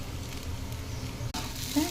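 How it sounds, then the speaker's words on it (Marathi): Sago pearls and fried potato are stirred together in a hot pan, a steady close sizzle with soft scraping and patter, briefly interrupted by a sharp knock against the pan. "मस्त बटाटा परतून झाला की शाबू मस्त एकत्र हलवून घ्यायचं"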